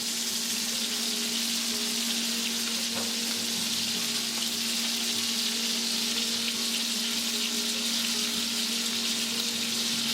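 Steady sizzling and frying of an entrecote steak searing in garlic butter in a pan, a continuous close crackle with faint spatters and no talk.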